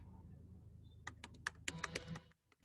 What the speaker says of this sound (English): All the networking commands I'm typing here to get the complete information.